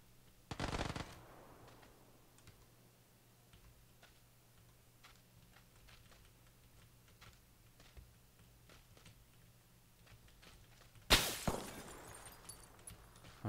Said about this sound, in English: there's a guy still shooting at me from pretty far away